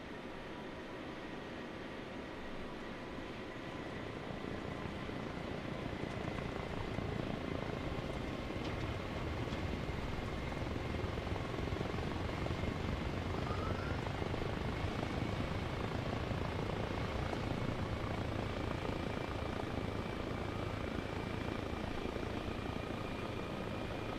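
Helicopter in the Arma Reforger video game, a steady broadband rotor and turbine roar holding for the whole stretch with a faint whine on top, no talking.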